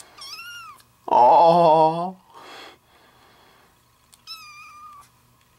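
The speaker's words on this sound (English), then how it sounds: "here's a newborn kitten to distract you" A newborn kitten gives thin, high-pitched meows, one at the start and another near the end. Between them a person lets out a long, soft cooing sound, and a faint breathy noise follows.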